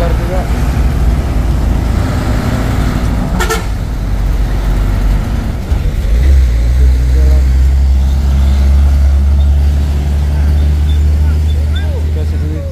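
A heavy trailer truck labors on a steep hill road, its engine a deep rumbling drone that grows louder and lower in the second half, with a brief horn toot early on and people talking nearby.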